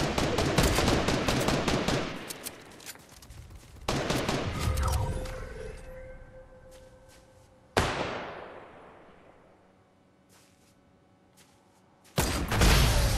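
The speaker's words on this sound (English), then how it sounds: "there's fighting over at Tilted Towers" Bursts of gunfire from a firefight at Tilted Towers in Fortnite, loud rapid volleys separated by sharp single shots that ring and fade into quieter gaps, with no talking.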